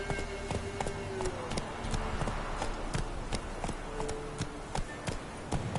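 Roach, the horse ridden in The Witcher 3: Wild Hunt, gallops with a steady, close clip-clop of hooves, joined by rhythmic taps and game ambience. A voice can be heard over the hoofbeats.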